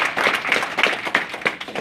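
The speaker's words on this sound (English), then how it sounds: "Y'all should give him a round of applause." An audience gives a short round of applause for a community civic leader at an organization's anniversary gathering, scattered uneven claps from a small group lasting under two seconds.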